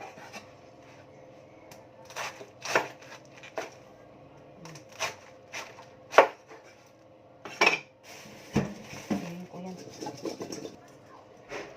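Cabbage being cut on a board for Filipino nilagang baboy in a home kitchen, heard as scattered close knocks and chops spaced a second or so apart, with soft voices and faint bird calls in the background.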